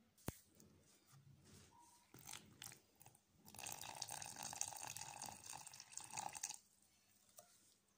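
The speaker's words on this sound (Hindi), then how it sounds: "अब इसमें हम पानी ऐड करेंगे।" Water is poured into ground powder for making laddoos, a faint sloshing trickle that swells in the middle and then stops, with scattered small clicks and handling sounds before it.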